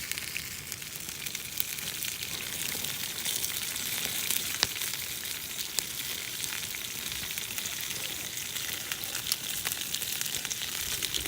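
Oil sizzles in a pan over an outdoor campfire, a continuous crackling hiss with scattered sharp pops, close and steady for the whole stretch.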